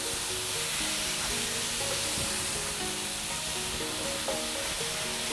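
Strips of steak sear in a hot pan for a Chinese-American lo mein-style pepper steak, with a dense, even sizzle throughout and faint stirring underneath.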